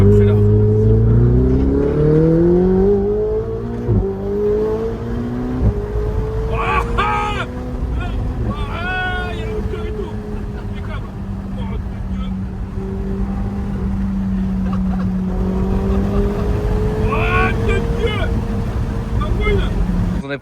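A Ferrari 488 Spider's V8 biturbo engine rises and falls as it revs and accelerates, loud and close, with people talking over it.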